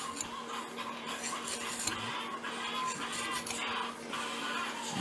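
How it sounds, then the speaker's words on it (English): A tanto knife scrapes across a handheld sharpening stone in repeated rasping strokes, a steady gritty hiss rising and falling with each push and slide, close by with a faint constant hum underneath. "You're going to take your stone like this. You're going to want to push as you slide."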